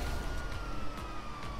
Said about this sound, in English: I think it's best we turn off the police sirens.